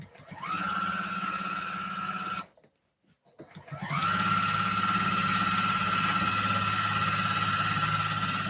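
Juki home sewing machine doing free-motion quilting, running in a steady loud motorized whir that stops briefly near the middle, then starts up again and continues evenly.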